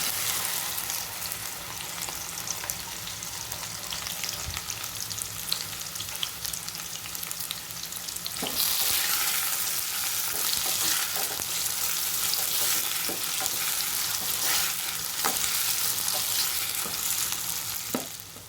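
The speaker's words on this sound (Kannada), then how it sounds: "ಹೆಚ್ಚಿಟ್ಟಿರುವಂತಹ ಬೆಂಡೆಕಾಯಿ ಹಾಕೊಳ್ಳೋಣ." Sliced okra sizzles in hot oil with mustard seeds for a lady finger curry. A steady, close frying hiss grows louder midway, broken by occasional clicks and scrapes of stirring.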